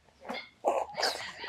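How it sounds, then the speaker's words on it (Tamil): A dog lets out a few short, harsh barks or yelps in quick succession, fairly close and moderately loud, with no speech over them. "அது எந்த நாய் அது?"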